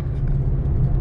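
Light Friday-morning traffic on a street in Jeddah, Saudi Arabia, a steady low rumble of passing cars filling the moment, fairly loud and continuous with no voices.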